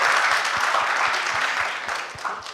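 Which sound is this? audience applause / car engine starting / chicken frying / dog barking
audience applause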